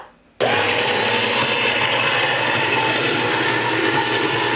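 A LINKChef cold press juicer switches on after a brief quiet moment and grinds a grapefruit with a steady, close whirring and gritty mechanical churn that holds evenly to the end.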